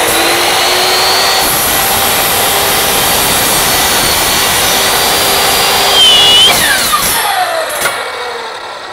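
A miter saw spinning up and cutting a workpiece at a 45-degree angle, a loud steady high-pitched motor whine that rises as the blade bites in, then winds down with a falling pitch, and no talking.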